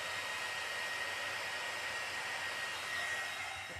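A heat tool blows hot air over milk paint on a pumpkin, giving a steady, unbroken whooshing hiss held close throughout, with no voices.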